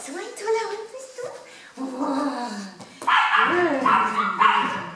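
A small Chihuahua gives a run of sharp, high yips and barks close by, mixed with whining tones and a person speaking to it.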